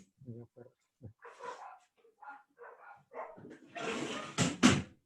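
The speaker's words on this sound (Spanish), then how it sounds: "hay muchos perros acá" Several dogs bark outdoors in a burst of loud yips and barks toward the end, after scattered quieter sounds and brief talk.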